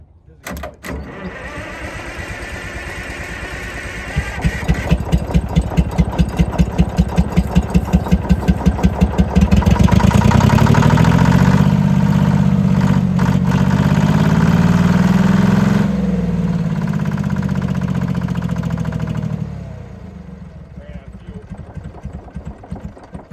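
The worn engine of a late-1950s Galion 104H motor grader cranks with rapid rhythmic chugs, then catches and roars loudly at higher revs for several seconds before dropping back to a rough idle, close to the listener.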